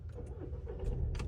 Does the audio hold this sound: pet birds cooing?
no